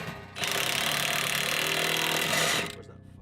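A power tool whirs loudly and steadily for about two seconds, driving a bolt into a Cybertruck during a repair, starting abruptly and then winding down.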